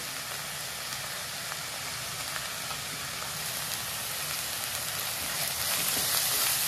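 Spices sizzle steadily in hot oil for Bengali doi katla fish curry, with salt, turmeric and chilli powder, a continuous broadband frying hiss that swells louder near the end, with light stirring underneath and no talk.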